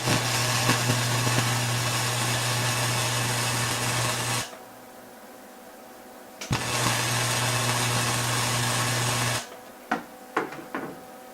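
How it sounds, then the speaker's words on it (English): Arc welding with both channels of a dual power supply joined to the weld cable: a steady loud electrical buzz and hiss that runs, stops, restarts and stops again, followed by a few sharp clicks. "Here we're going to weld with both channels connected to the weld cable at the same time"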